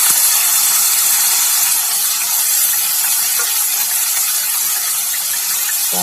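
Chicken frying in hot oil with cumin, a loud steady sizzling hiss that fills the whole stretch without pause.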